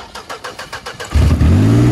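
A Pontiac G6 engine cranks with a rhythmic starter whir, then catches and fires into a loud, rising rev before settling into a steady run, heard close up.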